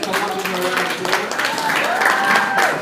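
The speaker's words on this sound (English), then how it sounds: "So when these guys come up with a round of applause" Applause from an audience at a youth basketball award ceremony as the champion team comes up, a steady wash of clapping with voices and chatter mixed in throughout.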